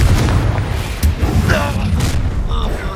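A Confringo blasting spell explodes during a duel in Hogwarts Legacy, a booming blast with a sharp crack near the one-second mark among loud, continuous combat noise and rumble.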